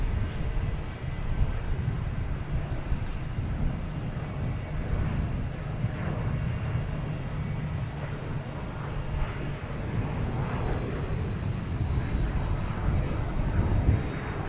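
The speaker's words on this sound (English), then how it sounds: "Lufthansa A380 on the downwind" A Lufthansa Airbus A380 jet airliner flies the downwind leg near Boston Logan, producing a continuous low, rumbling engine roar that stays fairly loud and steady throughout, with faint background voices.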